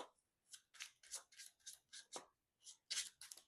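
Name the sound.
shuffling a deck of game cards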